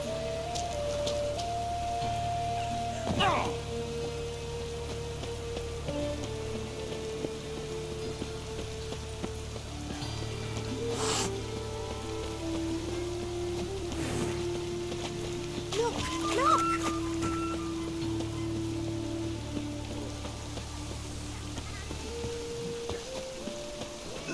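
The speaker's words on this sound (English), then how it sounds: "Must be mad running around in this rain." Steady rain patters across the ground in The Witcher 3: Wild Hunt, a continuous wash of falling water heard throughout, with occasional game sounds and voices breaking in over it.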